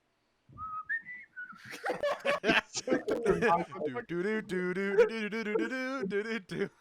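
A voice imitates R2-D2 droid whistles: a run of high, warbling whistled chirps and beeps, near and fairly loud, alone without speech.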